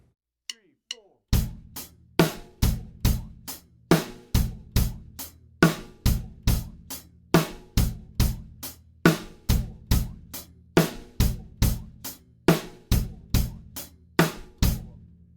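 A quicker quarter-note beat played on a drum kit, with hi-hat, snare and bass drum hitting in a tight, steady, driving pattern, loud and close, with no talking over it.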